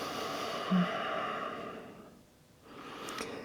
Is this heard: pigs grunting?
no